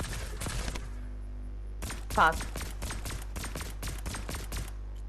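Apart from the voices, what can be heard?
gunfire in the video game Fortnite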